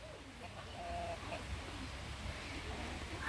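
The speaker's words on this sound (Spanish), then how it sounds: "Yo ya vi una gallina por aquí" A hen gives a brief, faint cluck at an outdoor spot, barely rising above steady background noise in a short moment.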